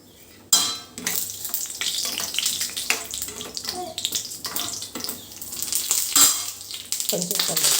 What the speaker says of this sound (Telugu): ఇప్పుడు 2 టేబుల్ స్పూన్ ఆయిల్ తీసుకొని అందులో జీలకర్ర, ఆవాలు వేసాను.